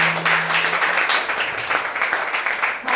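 A church congregation applauds loudly in a worship service, with dense steady clapping and some cheering voices mixed in throughout.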